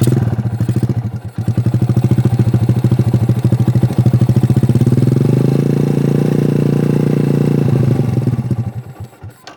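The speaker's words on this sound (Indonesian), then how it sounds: "Mesin dihidupkan." A motorcycle engine starts and runs at a steady, loud idle with a throbbing mechanical clatter, close up, then cuts off near the end during a charging system check.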